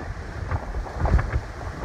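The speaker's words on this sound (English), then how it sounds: "it's windy as shit outside" Steady wind buffets the microphone outdoors, a low rumbling roar with gusty swells and no voices.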